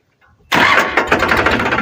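A farm tractor's engine fires up abruptly after a faint lead-in, then settles into a loud, close, steady chugging idle with a slight rhythmic pulse.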